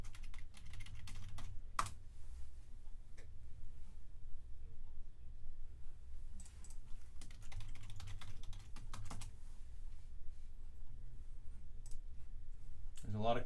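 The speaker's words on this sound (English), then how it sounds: "There's a lot of clicking" Computer mouse clicks while an online lab page loads, scattered sharp taps at irregular intervals, faint and spread over a low steady room hum.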